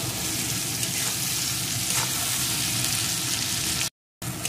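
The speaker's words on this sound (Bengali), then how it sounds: "এখন সব কিছুকে ভালো করে কষিয়ে নেব" Spices with salt and turmeric sautéing in oil in a pan for a tangra fish curry, a loud continuous sizzle and frying hiss with stirring, which cuts off briefly near the end.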